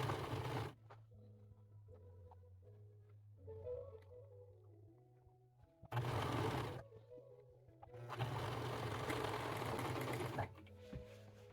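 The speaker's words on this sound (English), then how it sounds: "So it's just been faster to do it on the serger, and it really does give a more completed look." Serger overlock sewing machine stitching fabric, running in loud mechanical bursts of whirring and rapid clatter separated by quiet pauses, close by and alone.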